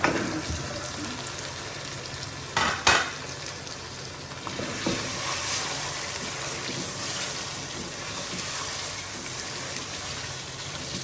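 Gosht with cardamom frying in a pan, a continuous close sizzle broken early by a couple of louder stirring scrapes, then settling into a steady hiss.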